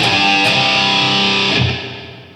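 A distorted electric guitar chord rings out with a long, spacious hall reverb from a Boss ME-70 pedal, restruck once before the sound decays.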